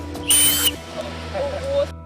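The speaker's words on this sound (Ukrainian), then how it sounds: "завжди при собі свисток на зв'язці з ключами" A small emergency whistle kept on a keychain gives one loud, shrill blast lasting under half a second, followed by quieter background sound.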